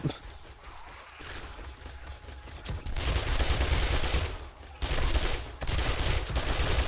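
Bursts of rapid automatic turret gunfire in the video game 7 Days to Die, loud sustained volleys broken by brief pauses.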